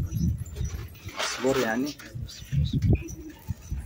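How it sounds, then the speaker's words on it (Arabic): Pigeons coo in a short low burst near the middle, close by, while people talk in Arabic over them in an outdoor setting where birds are being kept and fed. "بس هسه صارت الحمام كثير"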